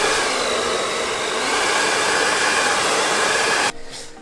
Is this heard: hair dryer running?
yes